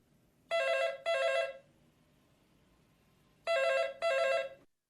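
Telephone bell ringing for an incoming call, two pairs of loud double rings separated by a pause of about two seconds, heard alone.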